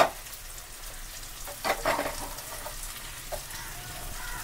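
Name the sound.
adding lightly boiled toor dal to sambar in a pan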